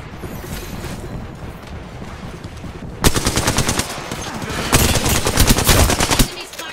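Rapid automatic gunfire in Apex Legends, loud bursts of closely spaced shots in two main volleys separated by a short gap, with a quieter stretch of game noise before the firing begins.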